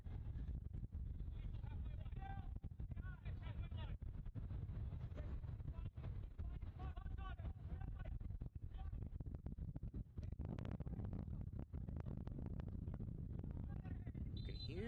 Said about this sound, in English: You can hear that wind gusting here